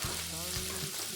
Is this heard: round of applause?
no